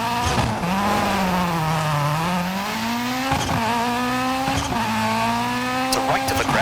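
Ford Puma Rally1 HYBRID rally car in EA Sports WRC on a rain-slicked stage, engine note rising and falling steadily through gear changes, with brief tyre squeal and skids, loud and continuous, while a co-driver reads pace notes over it.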